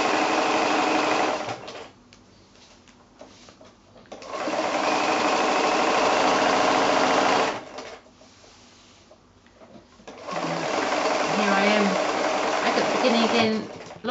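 A sewing machine free-motion quilting fabric runs in three loud, steady bursts of rapid stitching, separated by quieter pauses where a person talks.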